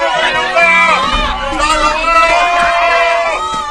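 A lively crowd from two opposing camps cheers and shouts as the contestants of a pill-refining contest walk into an animated arena, the noise loud and close and layered with overlapping voices.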